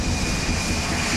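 Loud, steady roar of a DC-10 airliner's jet engines at high power on its takeoff run, a continuous rumbling whine.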